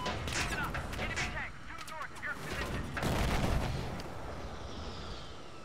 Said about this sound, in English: Mortaring these guys right in front of us.